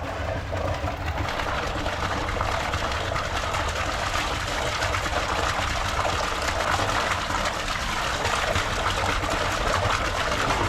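Water splashing and pouring during an outdoor bath, a steady dense rush of falling water, close and continuous for the whole stretch.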